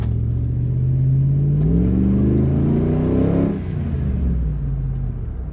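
A Dodge Ram 1500 with a 5.7L Hemi V8 and custom cold air intake revs up loudly, engine pitch climbing steadily before easing off into a lower rumble, heard close and alone.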